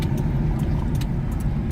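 Low, steady road rumble and engine hum fill the cabin of a car being driven through heavy commuter traffic, with faint ticks above and no talking.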